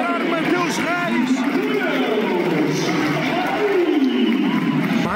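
A stadium crowd at Alvalade fills the air with a dense, steady roar and chanting during a Sporting match as a substituted player leaves the pitch, with a commentator talking over it throughout.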